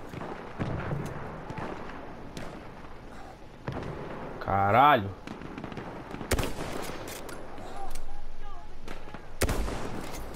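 Sniper rifle fire in Battlefield 1 gameplay: several sharp, loud shots spread across busy game noise, with someone talking and swearing in between.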